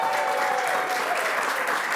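Crowd at a prize draw giving a dense, continuous round of applause, steady and loud with no breaks.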